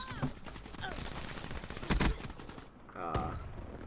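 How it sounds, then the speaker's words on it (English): Black Ops 3 gunfire in a multiplayer match: a few sharp, loud bursts of shots around the middle, followed by a ringing report near the end, set against busy game sound effects. "Just randomly started shooting."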